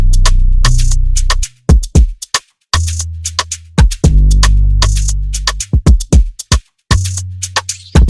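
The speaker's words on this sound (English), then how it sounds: "Then I dragged in a drum loop, a shaker loop, and a drum fill, and they sound like this." Layered beat with a drum loop, a crisp shaker loop and a drum fill over deep tom and kick hits, with rapid bright ticks and snaps running between the booming low drums in a busy, steady groove.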